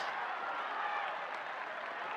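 A crowd at a show jumping grand prix applauding and cheering, a dense continuous roar heard from a distance at a fairly low level.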